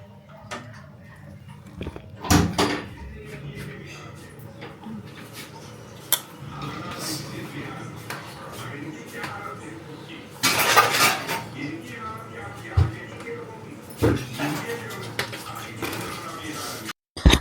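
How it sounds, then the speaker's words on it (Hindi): Dishes, pots and pans being washed at a home sink give scattered clanks and knocks of metal utensils, some sharp and close, spread irregularly over a quiet background with water running faintly. "मैं फटाफट धोने लग गई बर्तन"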